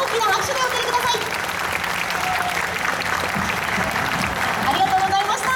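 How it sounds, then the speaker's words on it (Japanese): A crowd at a ballpark stage fan event gives sustained loud applause as guest baseball players leave the stage after a talk show, with an announcer's voice and tonal sounds over the clapping. "大きな拍手でお送りください"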